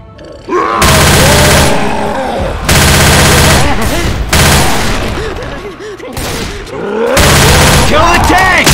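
Sustained, loud automatic gunfire in Left 4 Dead 2 on the Hard Rain map as players shoot at the Tank, with heavy overlapping bursts and brief gaps between volleys.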